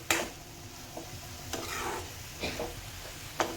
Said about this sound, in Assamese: এয়া কল পচলা ভাজিছোঁ আজি